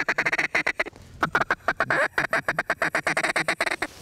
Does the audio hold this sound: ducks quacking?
yes